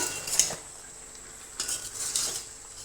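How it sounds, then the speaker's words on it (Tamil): Vegetables for aviyal stirred with a metal spoon in a cooking pot: a few quiet scraping clinks spaced over a few seconds, with no talking. "இது அப்பப்போ நான் கிளறி விட்டுக்கிறேன்."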